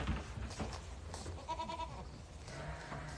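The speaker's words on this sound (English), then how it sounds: "A giant of a goat right here." A large goat named Minnie bleats on a farm, a short wavering cry in the middle of a soft low background rumble, moderately close and fairly quiet.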